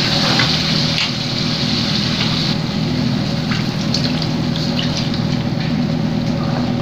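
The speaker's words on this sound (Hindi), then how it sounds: "अब इसके अंदर हम 2 ग्लास पानी शामिल करेंगे।" Two glasses of water poured into sizzling, fried masala for beef handi, producing a steady, loud gushing and bubbling hiss that runs continuously without a break.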